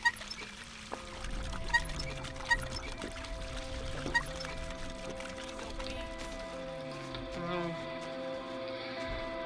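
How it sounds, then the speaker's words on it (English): Drinking water in the game My Summer Car: a gurgling, pouring swallow sound with a few sharp clicks at the start, running steadily over several seconds beneath a constant tonal hum of background game audio. "I take a sip of water"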